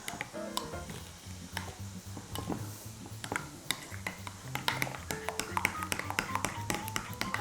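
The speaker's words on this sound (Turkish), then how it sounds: "Ve önce bunu karıştırayım böyle birbirine" A mayonnaise mixture is stirred in a bowl, with a spoon tapping and clinking against the sides in an irregular rhythm, close and fairly quiet.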